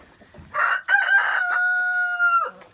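A rooster lets out one loud, close crow in the early morning among a flock of mixed-breed chickens, its long sustained call stretching for about two seconds after a short opening note.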